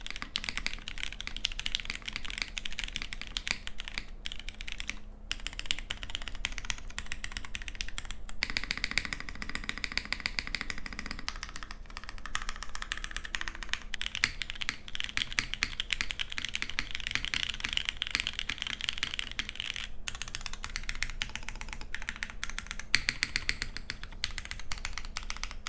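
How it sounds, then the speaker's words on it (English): Budget mechanical keyboard being typed on, a steady, dense run of crisp, punchy keystrokes with occasional brief pauses, close and alone with no talking. "The sound of this keyboard slaps."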